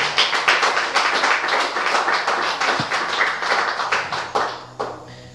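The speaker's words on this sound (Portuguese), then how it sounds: "Vamos aplaudir Jesus" Church congregation applauding together in a rhythmic, steady clap that stays loud and close throughout, with no talking over it.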